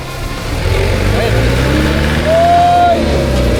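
Road traffic with cars and motorcycles on a ride from Manila to Bicol in Quezon: a steady engine rumble and road noise, with a brief horn-like tone partway through.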